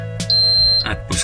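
Electronic beeping from the water leak alarm on a Lexpure reverse osmosis filter with a pump: a short chirp, then a long steady high tone, then further brief beeps, close and loud with no voices.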